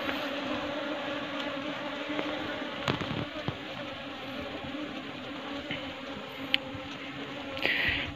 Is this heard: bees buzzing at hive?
yes